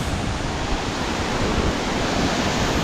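A river rushes through a mountain valley near Manali, giving a loud, continuous broadband roar with no letup, and no voices over it.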